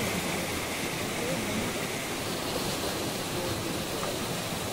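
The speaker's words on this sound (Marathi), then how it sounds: "पाणी बघा काय वाहतं आता." Water rushes steadily through an irrigation channel at a paddy field being readied before the rice harvest, a dense, continuous broadband wash that stays close and even for the whole stretch.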